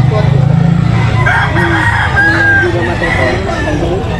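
A rooster crows loudly and close, with clucking fowl and a low engine hum in the background.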